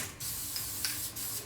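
Copper spray hissing steadily from an aerosol can onto turbo manifold bolts in a car engine bay, a continuous close spray with a couple of brief pauses, no talking.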